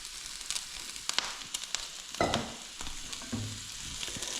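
Greens such as broccoli and kale hitting a pan of frying sausages, a soft steady sizzle broken by close clatters and scrapes of stirring, fairly quiet and without speech.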